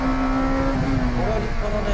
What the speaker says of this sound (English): Let's see how the car does going over the gaps on this course.